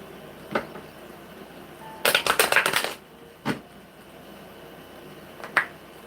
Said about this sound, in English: So I'm going to reshuffle these cards.